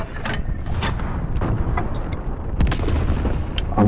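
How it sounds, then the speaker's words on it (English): Cruise missile launch and explosions in a video game battle: repeated heavy booms and blasts, loud and close, overlapping in an irregular barrage with rumbling low end throughout. "Allied cruise missile away."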